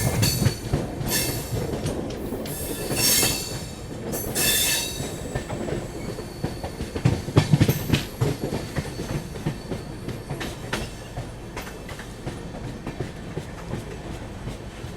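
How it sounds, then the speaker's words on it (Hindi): Kashi Vishwanath Express accelerating on the Delhi to Lucknow route, heard from inside a 3AC coach, with a steady rumble and clickety-clack of wheels over rail joints, bursts of squealing and hissing, continuous and close. "वाकई में अच्छी खासी एक्सेलरेशन ट्रेन करते हुए हमारी स्पीड पकड़ते हुए।"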